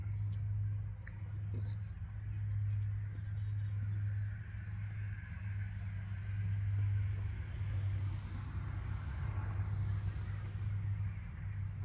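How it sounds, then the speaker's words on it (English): Cars pass at a distance on a main road in rural upstate New York, a faint steady rumble with a soft swell of passing traffic near the end, alongside a constant low hum. "You can hear the sounds of the cars driving by a little bit"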